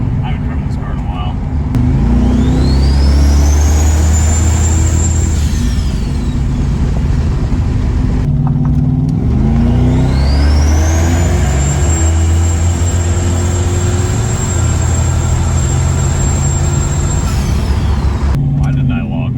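A turbocharged Dodge Diplomat driven on the road with a fresh torque converter, engine droning steadily while turbo whistle rises and holds twice under acceleration, with people talking over it inside the cabin.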